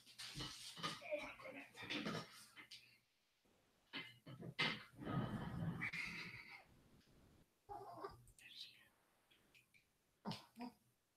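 A small puppy named Tinkerbell, just woken, makes soft whimpers and whines close by, mixed with throaty snuffles and brief coughs, while someone talks to it between the sounds.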